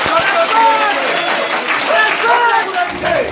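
A rally crowd in Kayes, Mali, claps loudly and continuously while excited voices shout and call out over the noise.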